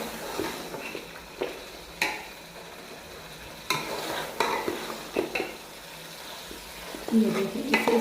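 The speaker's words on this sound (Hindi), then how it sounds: "अब इसमें गोश्त ऐड करेंगे हम। इसे अच्छी तरह से मिक्स कर लें।" Beef pieces being stirred and fried in a pot for aloo gosht; a steady sizzle with repeated clinks and scrapes of a spoon against the metal, close and fairly loud.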